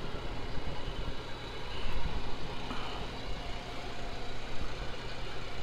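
A Chevy engine with a bad bearing idles in a steady, low rumble close by, with a slight swell in the middle and no voices.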